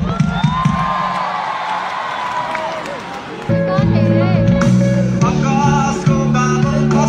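Big crowd at a melody festival clapping and cheering, a broad roar of applause and whoops under a voice on a microphone, before music with a sung melody takes over.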